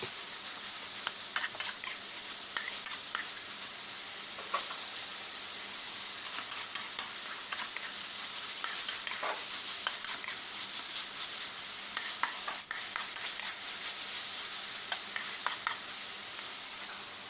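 Pork simmering in a pan as its liquid cooks down, a steady broad sizzle and hiss running throughout with frequent light scraping ticks of stirring, no voices present.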